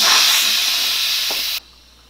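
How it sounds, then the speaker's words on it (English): An Instant Pot vents its remaining pressure after cooking teriyaki chicken, giving a loud, steady hiss of steam close by that cuts off abruptly. "We're going to release the rest of that pressure off."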